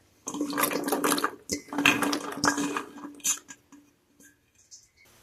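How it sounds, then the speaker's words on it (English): A clattering, rattling rush as a batch of green beans tumbles into a metal pot of water, with splashing and scattered knocks that taper off into quiet. "I'm going to dump these beans in here."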